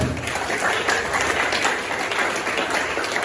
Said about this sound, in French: Est-ce que quelqu'un peut se lever et acclamer très fort le Seigneur?